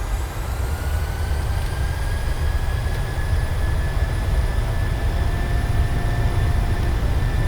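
PMDG 737 engines in a flight simulator spool up to takeoff thrust, producing a steady loud jet roar with a slowly rising whine that holds constant throughout, with no talking.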